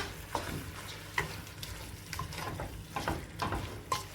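Chicken being stirred with biryani masala in a pan sizzles steadily, with several sharp spoon scrapes and clacks landing at irregular intervals; no voices.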